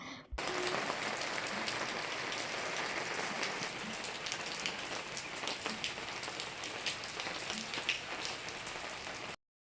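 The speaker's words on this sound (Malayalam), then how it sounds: "എപ്പോഴും മഴ തോർന്നിട്ടില്ല" Steady rain falls outside a home, a dense, even patter on surfaces that continues for several seconds and then cuts off abruptly, with no talk.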